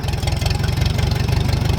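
Antique tractor engine running in the rain, a close, loud, steady low chugging with a fast regular pulse and no voices.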